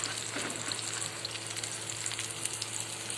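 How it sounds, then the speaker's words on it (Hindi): Chapli kebab topped with a tomato slice frying in a pan over low-medium flame, giving a steady, even sizzle and crackle of hot oil that holds at a moderate level throughout. "अब आप देख सकते हैं कि कितना अच्छा ये फ्राई हो रहा है"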